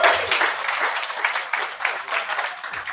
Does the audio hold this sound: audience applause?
yes